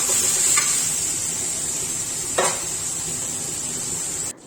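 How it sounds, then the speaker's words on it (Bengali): Cumin powder, ginger and two or three chillies crackle in hot oil for a pointed gourd curry, a close, steady sizzle with a brief sharper spatter midway and no talking. "সামান্য জিরে গুঁড়ো, একটু আদা দিয়ে করছি, আর 2-3টা লঙ্কা ফাটিয়ে দিলাম"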